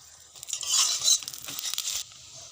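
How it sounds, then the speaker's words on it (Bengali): A paratha frying in a hot pan, giving a crackling sizzle with scraping and stirring noises in uneven bursts that stop abruptly, leaving only a quiet background. "এক পিঠ হয়ে গেছে, আর এক পিঠ আমি ভেজে নেব।"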